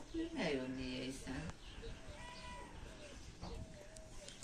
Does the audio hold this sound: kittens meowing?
yes